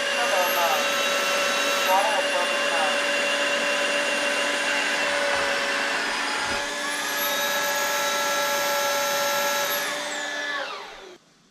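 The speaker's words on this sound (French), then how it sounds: "on vient d'entendre l'aspirateur parler" An Osotek H200 vacuum cleaner runs with a loud, steady high-pitched whine and airflow roar, its tones sliding up at the start and again midway, then spinning down and cutting off at the end.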